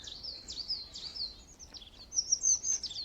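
Small birds chirping outdoors, a run of quick high-pitched tweets and trills repeating throughout, moderately close and clear over a quiet background with no talk.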